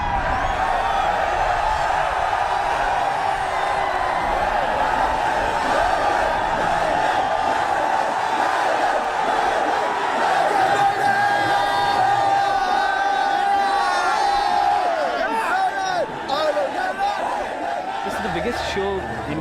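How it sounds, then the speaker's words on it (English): Thousands of Indian metalheads fill the grounds at an Iron Maiden concert, a huge crowd roaring, cheering and whooping without a break, with individual yells and bellows rising out of the dense wall of voices. "I don't think you'll hear a louder crowd anywhere in the world"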